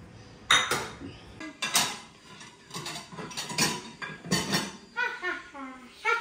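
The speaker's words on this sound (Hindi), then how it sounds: "डिश वॉशर तो कैसे लगाते हैं कैसे बर्तनों को अरेंज करते हैं" Plates and dishes clatter and clink repeatedly as they are set into a dishwasher rack, a close series of sharp ceramic knocks with brief gaps, ending in a lighter rattling.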